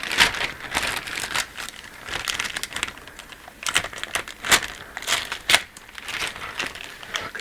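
Plastic bag of Revell 1962 Chevy model kit parts being torn open and handled, close crinkling and crackling in irregular bursts with a few sharp rips.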